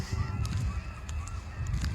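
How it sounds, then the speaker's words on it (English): Canada geese, a small group of adults with goslings, give several short honks in quick succession at moderate distance, over a low outdoor background. "Here's the Canadian geese."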